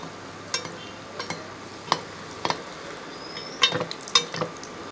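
A bread and egg snack frying in sunflower oil over medium heat, giving a soft continuous sizzle broken by scattered crisp pops and light utensil taps against the pan.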